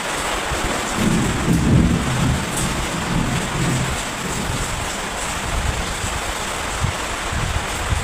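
Torrential rain roars steadily while a deep roll of thunder rumbles through early on, then fades back into the dense, unbroken downpour.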